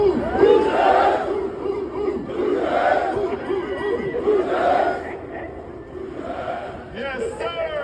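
A large crowd at College Game Day shouts and chants in rhythmic swells, loud and close throughout, with a voice speaking over the noise.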